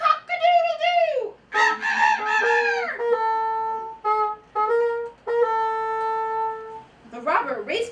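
A rooster's cock-a-doodle-doo crow, loud and near, in several long, drawn-out held calls with a steady pitch, as performed in a spoken farmyard tale; it may be a voice or instruments imitating the crow.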